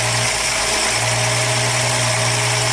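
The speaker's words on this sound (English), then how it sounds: "did it sound like it was idling a little high?" A 1962 AMC Rambler engine idles steadily and a little high, a loud, even hum with no voices, its idle screw backed out all the way.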